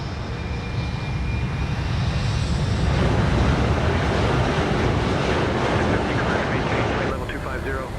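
A simulated Embraer E195F cargo jet roars past in a flight simulator flyby, a loud broad engine rush that swells and then shifts as it passes, with speech over it.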